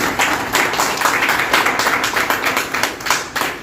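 An audience claps loudly and steadily at a press event unveiling a Shiv Sena cricket premier league trophy, a dense close patter of hands sustained for several seconds with no talk over it.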